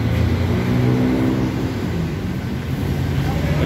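A car exiting the autobahn, with a steady, continuous rumble of engine and road noise from inside the vehicle, moderately loud throughout.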